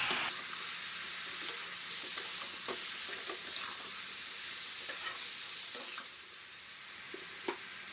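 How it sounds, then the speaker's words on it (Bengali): A spoon stirs ash gourd curry with turmeric powder in a hot pan, a steady sizzle of frying under irregular scraping strokes, close and moderately loud with no talking. "ভালো করে নাড়তে হবে একটু।"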